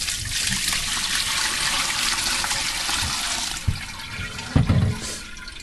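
Ham stock pours and splashes steadily into a container through a strainer, with a rushing watery sound and a couple of soft clunks near the end.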